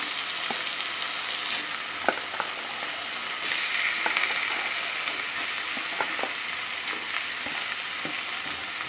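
Pieces of fried rui fish sizzle in hot oil in a pan with a cooked spice base, giving a constant close hiss broken by scattered crackles and a few soft stirring knocks.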